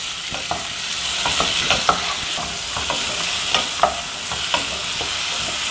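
Chow chow (chayote) sautéing in a pan with tomato and tamarind for a chutney, a steady sizzle broken by clear spoon-scraping strokes, close and alone without any talk.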